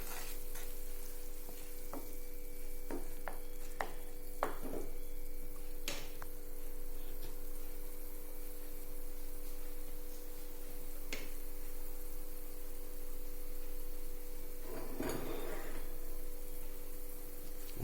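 A pot of water at a rolling boil for rava upma, a steady bubbling seethe with faint hum, occasional clinks and stirring sounds, and a brief louder clatter near the end.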